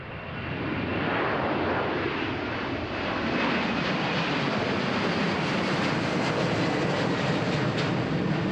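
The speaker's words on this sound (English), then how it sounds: "This time though it is an A330-300, though it seems the entirety of the Delta air fleet is here at Amsterdam Schiphol." A Delta Airbus A330-300 jet at Amsterdam Schiphol produces a loud, broad engine roar that swells and holds steady with a rising whine, heard from nearby with no talk.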